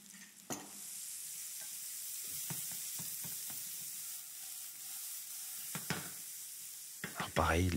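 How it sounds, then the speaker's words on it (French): Aubergines frying in olive oil in a pan, a quiet continuous sizzle broken by several sharp stirring and scraping knocks, with a louder clatter near the end. "Je fais revenir mes aubergines."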